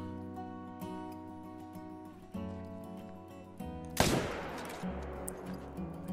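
A single loud rifle shot cracks out partway through, fired at an animal in theHunter Call of the Wild, then rings off over a steady ambient game backdrop.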